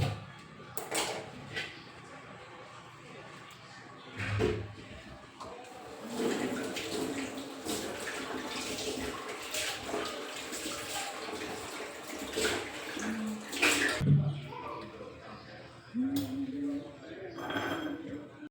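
An old clay water pot being washed and rinsed: running and sloshing water with occasional clinks and knocks of the pot, fairly quiet and steady throughout, with brief louder splashes.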